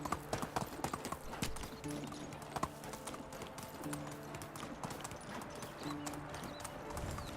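Horse hooves clip-clopping in the medieval village game Medieval Dynasty, a quiet steady rhythmic clatter of hoofbeats with a faint background hum.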